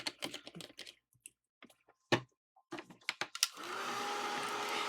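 A hair dryer drying paint: a few sharp clicks and knocks come first, then the dryer switches on with a loud, steady whooshing roar that continues to the end.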